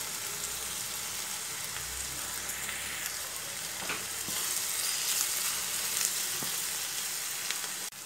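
Onions and curry leaves sauté in a pan for an egg roast, giving a steady, even frying sizzle with faint stirring scrapes throughout, close and continuous with no talking.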